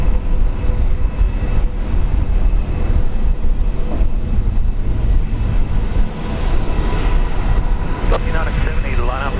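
Broadband engine roar from a Virgin Australia airplane at Brisbane International Airport, loud and sustained throughout, with people talking over it.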